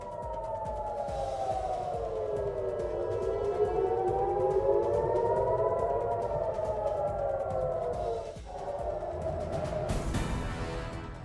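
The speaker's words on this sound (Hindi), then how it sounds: "सायरन बजने के बाद बंकरों में छपते नजर आए लोग" Air raid siren wailing in Jerusalem during a missile attack, a loud sustained rising and falling tone that rings steadily for about eight seconds, dips, then swells again alongside a burst of broadband noise near the end.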